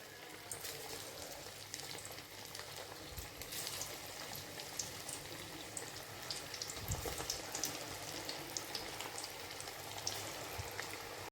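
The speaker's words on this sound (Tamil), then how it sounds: "இப்போது நம்ம இது ஒவ்வொன்றா போட்டு பொரித்து எடுத்துக்கலாம்." Onion manchurian balls deep-fry one by one in hot oil in a kadai over low heat, a continuous bubbling sizzle with faint crackles and an occasional soft thud, no voices.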